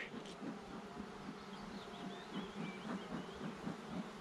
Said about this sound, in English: I don't know whether you can just hear the tone of the bees has changed there.